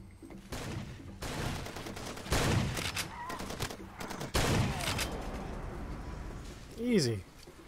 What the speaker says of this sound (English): Hearing some bullets.